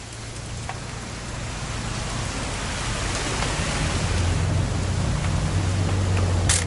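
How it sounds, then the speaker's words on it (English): Steady rain pours down in the video game What Remains of Edith Finch, a dense even hiss of falling drops that grows slightly heavier, with a low hum underneath. "It's gonna rain the whole weekend,"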